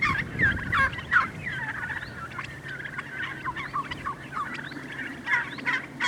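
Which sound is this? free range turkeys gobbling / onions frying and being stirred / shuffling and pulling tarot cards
free range turkeys gobbling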